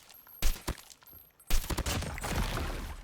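A weapon's illumination effect in a video game bursts like an exploding flower: sharp crackling pops, then a dense rushing burst of crackle that carries on to the end, moderately loud.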